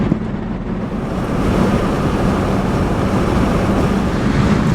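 Strong wind gusting outdoors in the Kalahari region of southern Africa, a loud continuous rushing roar buffeting the microphone with no pause.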